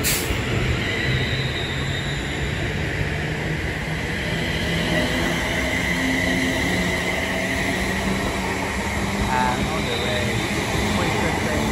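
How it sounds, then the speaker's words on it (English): A London Overground class 710 train, unit 710-262, pulls in at Watford Junction on a service terminating from London Euston, a steady rolling rumble with faint wheel squeal filling the platform throughout. "As in comes a terminating London Overground service from London Euston"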